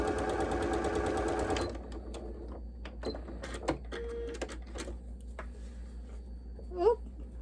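Sewing machine stitching a log cabin quilt block, a fast loud mechanical whir lasting under two seconds, then stopping, followed by quiet clicks, light handling noises and a brief squeak.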